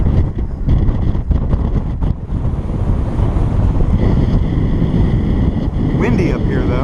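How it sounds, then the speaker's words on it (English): Strong wind buffets the microphone on the open top deck of the cruise ship Voyager of the Seas at sea, a loud continuous roar with some faint background sounds. "Windy up here, though."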